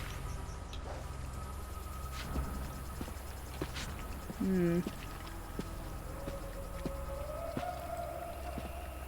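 A ghostly chanting shade in the Book of Travels video game: eerie, wavering tonal wails over a quiet ambient bed, with one louder moaning swell and a long rising tone afterward.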